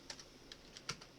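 A short burst of typing on a computer keyboard while entering a Linux command, with a handful of faint, crisp key clicks at an uneven pace and no voices.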